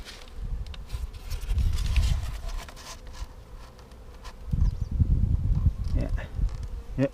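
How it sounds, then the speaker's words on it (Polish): Honeybees buzz densely and close by at an open beehive as honey supers are added, a continuous droning hum that swells and fades, with scattered rustles and bumps from hive work. "Widzę pszczołę, tutaj o, chodzi."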